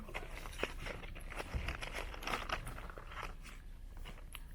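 Food being chewed up close, with soft crunching bites repeating through the whole stretch against quiet background noise and no talk.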